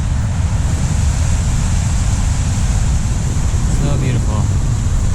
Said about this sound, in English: Love that little waterfall down there.